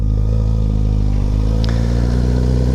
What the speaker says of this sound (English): That was Edgar on a 959 Panigale, which is pretty cool.